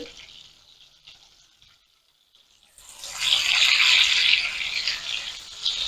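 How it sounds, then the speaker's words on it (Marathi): Grated onions are sautéing in a pan for a dhaba-style mixed vegetable bhuna. After a near-silent start, a loud hissing sizzle rises and holds. "कांदा आपल्याला व्यवस्थित परतवून घ्यायचा आहे"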